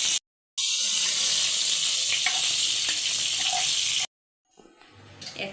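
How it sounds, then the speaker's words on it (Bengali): Two dried red chillies, panch phoron five-spice, a bay leaf and two cardamom pods sizzle hard in hot oil left from frying vegetables. The loud, steady crackle cuts out briefly twice, then fainter stirring follows. "সবজি ভাজা তেলে 2টি শুকনো মরিচ, 5 ফোড়ন, একটা তেজপাতা, 2টা এলাচ"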